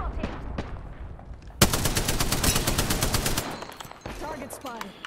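Rapid automatic gunfire from a first-person shooter battle royale match in Apex Legends, a loud sustained burst of evenly spaced shots that starts abruptly, then stops and gives way to quieter game sounds.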